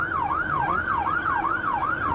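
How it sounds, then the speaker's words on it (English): Emergency vehicle siren from police cars and fire trucks on a roadway, a loud wailing tone sweeping up and down in steady repeated cycles, close and continuous with no talk. "you hear the lights and sirens from police cars and fire trucks"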